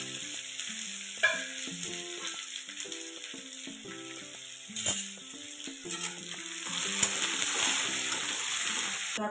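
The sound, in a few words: finely chopped onions frying in pan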